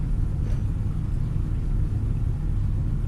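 A steady low racing car engine rumble in the video game Project Motor Racing drones continuously, heavy in the bass and fairly loud, with no clear revving or gear changes and no talking.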